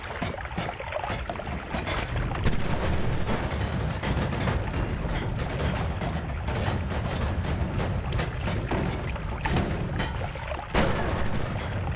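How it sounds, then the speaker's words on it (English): Firework blasts in the video game Noita crackle and burst in a dense, continuous barrage, with sharp pops and booms stacked over a loud rumbling bed that hardly lets up. "That dude actually hit me with the fireworks."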